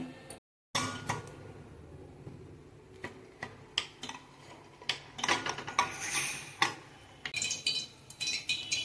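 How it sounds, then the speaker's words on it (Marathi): Rice is stirred in a pressure cooker with a metal spoon, giving faint, irregular scraping and clinking against the metal pot. There is a short silent gap near the start. "तर इकडे तांदूळ टाकून घेतलेत मी कुकरमध्ये, आणि तांदूळ आता मिक्स करते"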